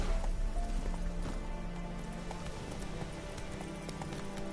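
Steady clip-clop of horse hooves trotting in the video game The Witcher 3, continuous and fairly loud over a dense layer of ambient sound.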